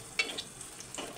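Garlic frying in oil for a mutton fry, a faint brief sizzle with a couple of light stirring scrapes, close but quiet.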